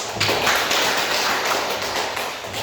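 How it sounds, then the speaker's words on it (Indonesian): A classroom of children applauding, a dense, steady patter of many small hands clapping together for a couple of seconds, fairly close and even in loudness. "Kita aplaus kita punya."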